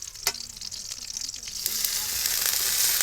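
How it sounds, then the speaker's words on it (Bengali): Prawns frying with garlic, onion and green chilli in a pan give a steady close sizzle that swells louder in the second half, with a sharp spatula scrape near the start and no talk. "এইবারে চিংড়ি মাছগুলো দিয়ে ভালো করে ভাজি করে নেব।"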